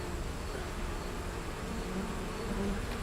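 Bees buzz around frames in an opened beehive being prepared for winter, a dense, steady hum of many insects close by that continues without pause.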